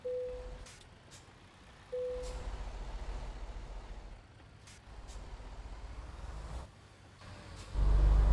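A heavy truck in the American Truck Simulator game drives in a multiplayer convoy through Texas. Its low engine rumble swells and fades, with brief air-brake hisses and a couple of short electronic beeps, and a louder burst comes at the end.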